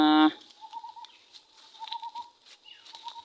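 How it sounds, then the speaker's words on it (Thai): A coucal's low, hollow call repeats in short bursts against quiet outdoor ambience, with a brief louder tonal sound at the very start. "เสียงนก กระปูดร้องมา"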